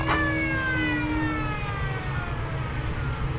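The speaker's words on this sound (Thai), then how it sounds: "มีเสียงหวอด้วย" A siren wails near a Thai roadside drag-racing event, its rising and falling tone loud over a constant low engine and crowd rumble, with no talk.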